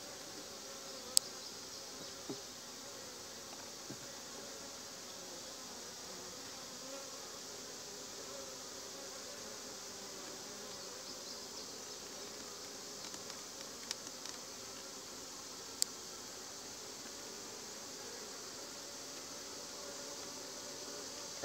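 Honey bees in a hive box with a mated queen make a steady, close, even hum that runs unbroken throughout, with a few faint clicks and knocks from handling the hive.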